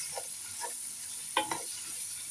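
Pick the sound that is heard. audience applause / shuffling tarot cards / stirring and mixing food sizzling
stirring and mixing food sizzling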